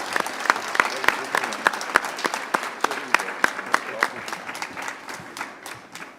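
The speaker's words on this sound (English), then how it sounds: "Please give him a round hand of applause in congratulations." Applause breaks out at a council meeting after a new whip is announced: dense, steady clapping from a roomful of councillors, with sharp individual claps standing out early and the sound gradually thinning and fading toward the end.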